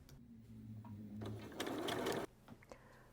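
A sewing machine basts long stitches of length 3 to 3.5 in the seam allowance of a dress, building from a low hum into a loud whirring run before stopping, followed by a few faint clicks.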